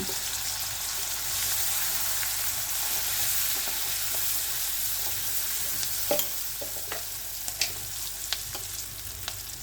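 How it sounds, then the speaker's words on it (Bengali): Chopped onion and chilli sizzle steadily in hot oil in a home kitchen pan, a constant crackling hiss with a few sharper clicks and stirring scrapes toward the end, no voices. "তেলটা গরম হয়ে গেলে এর মধ্যে পেঁয়াজ কুচোনো আর লঙ্কা কুচোনোটা দিয়ে দেব।"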